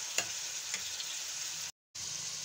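Potato keema masala is stirred and fried in a pan, giving a steady, close hiss of sizzling with a few soft scraping strokes, cut by a brief moment of silence near the end.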